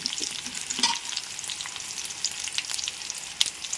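Curry leaves and dried red chilies frying in hot oil for a ridge gourd tomato chutney, a close, steady crackling sizzle with scattered sharp pops.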